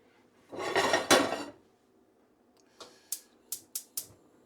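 Frozen peas pour into a cooking pot with a rattling rush, then several sharp clinks of metal and utensils follow, close and fairly quiet.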